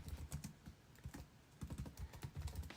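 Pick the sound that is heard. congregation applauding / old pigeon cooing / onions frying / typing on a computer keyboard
typing on a computer keyboard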